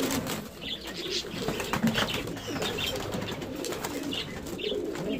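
Soft, low pigeon coos repeat in a steady background murmur inside a pigeon loft, with faint chirps and a brief flutter of wings.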